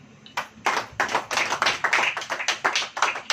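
A church congregation claps in response to a preacher's call during a Hindi sermon, producing a run of sharp, fairly regular claps that start after a brief pause and continue steadily at moderate loudness.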